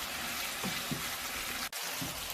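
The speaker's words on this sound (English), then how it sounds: "adding the juice of 1 beautiful lemon or lime and 1 tablespoon of saffron liquid, stirring for 3 minutes more" A meat mixture with lemon juice and saffron liquid is stirred in a pot for Azerbaijani shah pilaf, giving soft sizzling and a few gentle scraping strokes close by.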